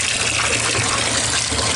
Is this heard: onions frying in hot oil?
no